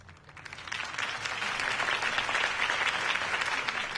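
Applause from a crowd in the video game Batman: The Telltale Series swells quickly and holds steady, a dense wash of clapping with no voices standing out.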